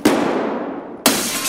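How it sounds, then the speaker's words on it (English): Two loud, close gunshots in Escape From Tarkov, each a sharp crack with a long decaying echo, about a second apart. "And now people are shooting at us. I hear loud gunshots."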